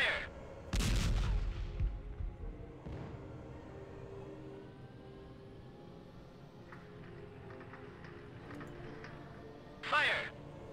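Tank cannon fire from an M60 in the video game Arma: Cold War Assault: one heavy, loud boom near the start with a long rumbling decay, then a second sharp blast toward the end, under steady engine drone and some talk.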